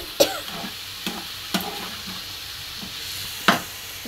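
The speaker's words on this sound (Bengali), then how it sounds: "চিড়েটা দিয়ে দিলাম, এবার একটু নাড়াচাড়া করবো।" Flattened rice (chira) stirred in a frying pan for chira pulao, producing a low continuous sizzle broken by several sharp spatula knocks against the pan at irregular intervals.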